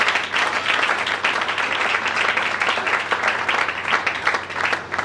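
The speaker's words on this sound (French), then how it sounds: "Acclamons très fort pour le Seigneur." A church congregation claps, a dense and steady round of applause from many hands that fills the room for the whole stretch.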